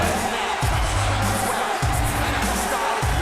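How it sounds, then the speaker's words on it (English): Simulated arena crowd in a WWE 2K23 wrestling match, a dense steady roar of many voices filling the clip, with low rumbling thuds recurring every second or so beneath the noise. "And you can hear the crowd."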